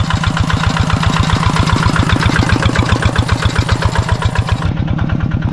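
A small water pump engine runs steadily and loudly with a fast, even chugging pulse throughout, close by and with no voices.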